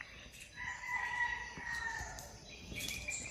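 A rooster crows once, a drawn-out call carrying over a quiet rural household yard with soft background noise and no voices.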